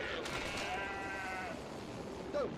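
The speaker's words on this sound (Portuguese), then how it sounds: "Olha os bodes aí passando." Goats bleating in the PlayStation 2 downhill mountain-biking game Downhill Domination: a drawn-out, wavering bleat of moderate loudness, then a shorter call near the end, over constant game background noise.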